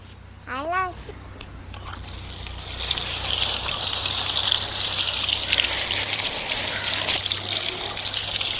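Running water rinsing freshly picked curry leaves, a steady broadband gush that swells louder partway through and continues, with a short voice early on.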